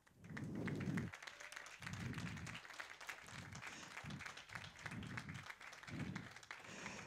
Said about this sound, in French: que vous pouvez effectivement applaudir très fort